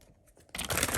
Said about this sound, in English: do a couple shuffles here